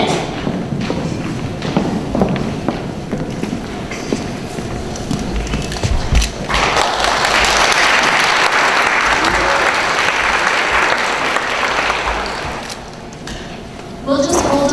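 Audience applause breaks out at a 2017 Shaughnessy graduation ceremony, swelling into a loud, steady wash of clapping for several seconds after earlier talk and thuds, then fading near the end.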